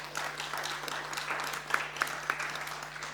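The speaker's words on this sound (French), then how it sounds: "Vous pouvez l'applaudir." Audience applause after a scientific presentation at a water and satellite imaging event, a steady wash of many hands clapping at moderate volume with a few sharper claps standing out, no voices on top.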